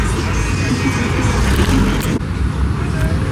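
A drift car rolls up at a modified car meet, its engine a steady loud broadband rumble amid constant crowd and traffic noise, close by, with a brief dip partway through.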